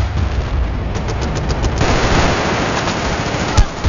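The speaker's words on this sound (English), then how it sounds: "Called in artillery on B." Artillery fire in the video game Battlefield Bad Company 2, loud rumbling barrages and blasts layered with rapid gunfire crackle, continuous and dense throughout with a sharp boom near the end.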